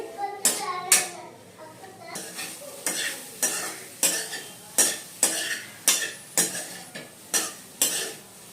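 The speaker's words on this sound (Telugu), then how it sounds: "ఇప్పుడు కొంచెం లైట్గా డీప్ ఫ్రై చేస్తే సరిపోతుంది" Boiled meal maker soya chunks lightly deep frying in oil, with a spoon striking and scraping the pan in a regular rhythm of roughly one knock per second over a faint sizzle, close by.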